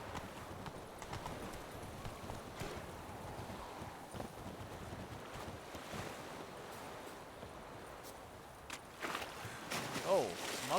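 Hoofbeats of a horse galloping in The Witcher 3, a steady clip-clop rhythm running throughout at moderate loudness, with faint surf-like ambience behind and a few brief louder accents near the end.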